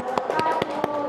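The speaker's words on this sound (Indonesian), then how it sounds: "Ya, tepuk tangan." Students in a classroom clap briefly, giving about five evenly spaced, crisp hand claps with a faint voice-like hum underneath.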